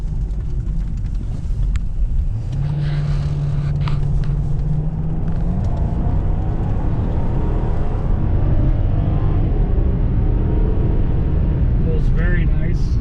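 A 2004 Ford Thunderbird with a V8 engine accelerating, heard from inside the car as a steady low rumble that swells and builds while someone talks over it throughout.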